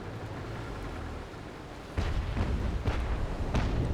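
Ship cannon fire in the Naval Action video game during a naval battle, deep booming shots arriving in a rough series over rumbling sea ambience, heavy and broad.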